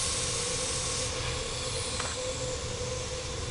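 Steady, loud hiss of steam from a train in the Orient Express, heard alone as a continuous blast with a faint brief click partway through, in Agatha Christie: Murder on the Orient Express.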